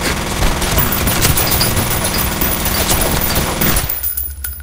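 Dense automatic gunfire rattles without a break in the video game F.E.A.R. Extraction Point. The firing is loud and continuous, then cuts off abruptly near the end.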